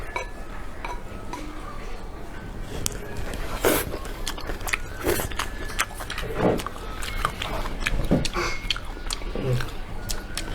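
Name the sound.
people eating a home-cooked Chinese meal with meat sauce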